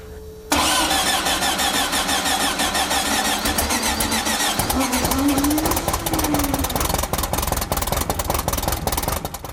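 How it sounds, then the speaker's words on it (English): A camper van engine with a rebuilt starter motor cranks, catches and fires up, then settles into a loud, steady, close idle with a rising and falling engine tone. "As soon as we put a good battery on it and a good starter, pretty much straight away it fired up."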